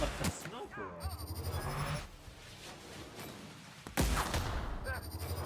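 Sniper-style rifle shots in the video game The Outer Worlds: two sharp, loud cracks, one near the start and one around the middle, each followed by a short rumbling tail, with quieter game sounds between them.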